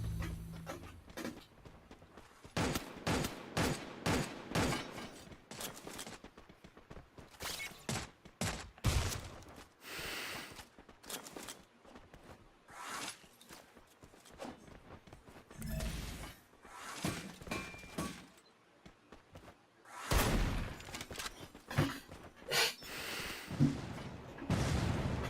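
Bursts of gunfire in the battle royale game Free Fire, with rapid clusters of sharp shots and single cracks scattered irregularly, some loud and close, others fainter, with brief lulls between volleys.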